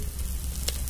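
Eggs frying in hot oil crackle and sizzle steadily and close, with a steady hiss and occasional sharper pops, and no talk over them.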